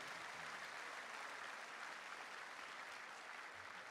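Audience at a MARA anniversary panel discussion applauding the panel members, a dense, even wash of clapping that runs steadily throughout at fairly low volume.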